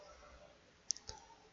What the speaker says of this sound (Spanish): clic derecho